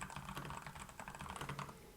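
Quick, light keystrokes tap on a computer keyboard as a chart title is typed in Hangul word-processing software, a quiet and rapid patter with no talking.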